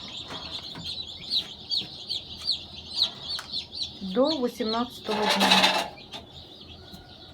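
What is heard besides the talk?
chicks chirping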